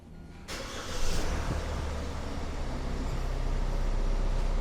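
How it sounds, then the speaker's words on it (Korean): A car engine started on a GSP 4th-generation starter battery: a quiet lead-in, then a sudden crank that catches and settles into a steady close idle with no talking. "이 상태에서 시동을 한번 걸어 보겠습니다"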